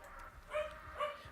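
A dog in a video game gives two short, yappy barks a moment apart, mid-level and slightly whiny, over a low game soundscape.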